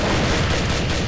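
Dense, continuous burst of explosive blast noise from a bomb detonating in a mobile first-person shooter game, loud and broadband throughout with no speech.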